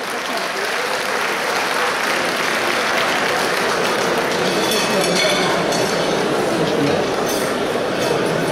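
An audience at an economic solidarity event applauds to send off guests, a loud continuous patter of many hands clapping throughout, with a faint metallic clink near the end.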